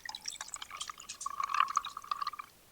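Water poured from a container into a glass for Javy instant coffee, a steady close trickle with bright splashing that thins to drips over a few seconds, no talk.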